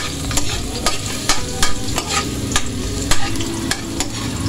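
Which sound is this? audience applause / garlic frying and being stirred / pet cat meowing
garlic frying and being stirred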